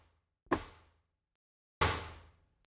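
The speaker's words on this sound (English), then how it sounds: "That's the kitchen drawer." A kitchen drawer slides twice, each pass a short whooshing rush with a soft thump at its end, well spaced apart and close by, with no one talking.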